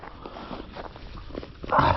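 Dogs shuffle and move about nearby while one whimpers softly, with rustling footsteps throughout and a louder burst of activity right at the end.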